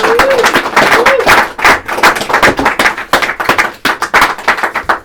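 Audience clapping after a live poetry performance, a dense run of close, loud hand claps in an uneven rhythm, with a voice briefly over the start.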